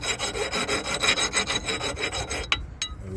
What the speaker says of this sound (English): We just gonna get all this surface rust off of here